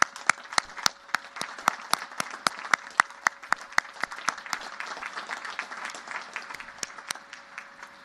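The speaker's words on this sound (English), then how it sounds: "And let's have a big round of applause for Colonel Ripley, please." An audience at a US Naval Academy graduation breaks into applause, with a dense wash of clapping and sharp individual claps standing out, fairly faint and steady throughout.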